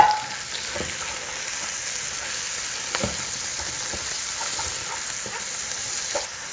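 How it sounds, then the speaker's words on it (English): Chopped Vidalia onion and a little garlic sizzle steadily in hot bacon grease, a dense crackling hiss that stays even throughout, with a few soft clicks of a spoon stirring the pan. "Let that bacon grease start cooking these onions down a little bit."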